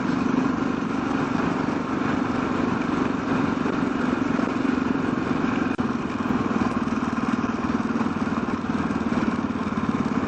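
Yamaha motorcycle riding a dirt road in Mongolia, its engine droning steadily and loudly throughout with a constant mid-pitched hum and light clatter, no talk.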